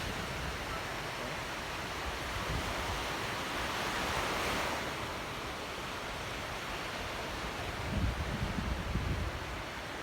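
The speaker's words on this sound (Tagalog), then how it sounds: "Pwede mag-surf dito guys. Yan. Tsaka yung waves." Ocean waves at Dahican Beach roll in with a steady broad wash of surf, swelling slightly midway and again near the end, under faint wind.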